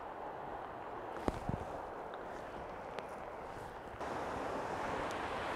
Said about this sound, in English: But look at this waterfall.